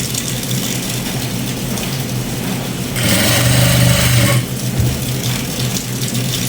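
A sewing machine stitches fabric for a school uniform coat, its motor whirring in a louder, faster run for a second or so amid a steady mechanical hum.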